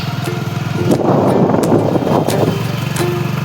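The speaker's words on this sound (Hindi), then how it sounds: "और ये मेरा भाई गाड़ी चला रहा है" A car engine running steadily as someone drives it, a mid-pitched hum that swells briefly in the middle and stays close and fairly loud throughout.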